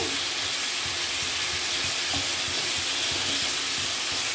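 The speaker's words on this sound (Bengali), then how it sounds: "আর এই উনুনে শাকগুলো বেশ মজে এসেছে।" Malabar spinach cooking covered on a stove for a prawn curry, a continuous soft sizzle and bubbling hiss, close and steady with no talk.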